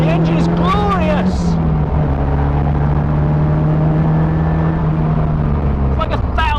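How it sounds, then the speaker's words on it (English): A Caterham Seven 270S engine holds a steady, loud, buzzing drone on track while someone talks over it at the start and end. "The engine is glorious!"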